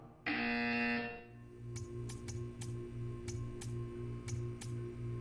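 A long electronic buzzer tone from Portal 2 sounds at the start, followed by a low repeating hum and sharp, evenly spaced ticking clicks.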